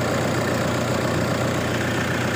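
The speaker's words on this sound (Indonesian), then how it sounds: "Suara ketika mesin standar diesel itu masih standar ya." A standard, unmodified Toyota Innova diesel engine idles with a steady, loud, close rumble and a faint knocking texture throughout, with no voices.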